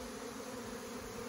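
A fall honeybee swarm buzzes in a continuous, even drone, fairly faint and close, with a steady hum and no other sounds over it.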